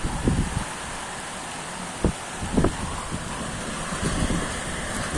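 Strong, gusty storm wind blowing outdoors as light rain falls, a steady broadband roar with occasional low buffeting thumps against the microphone throughout.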